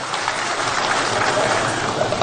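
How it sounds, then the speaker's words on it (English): Crowd at a political rally claps for a chief, a dense, steady wash of applause at moderate distance with no clear gaps. "A round of applause for him as well."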